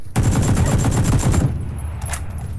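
Fully automatic rifle fire in PUBG, a loud burst of rapid close shots lasting over a second, then a few faint distant pops in a quieter tail.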